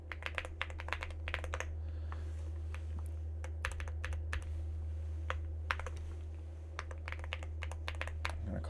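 Rapid clicking of keys on a computer keyboard as a password is entered, close and crisp, in irregular bursts over a steady low electrical hum.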